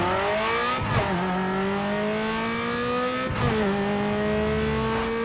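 Mazda RX-7 in a Need for Speed Underground 2 street cross race, engine note rising steadily through the gears with two sharp shift breaks, loud and close with no talking.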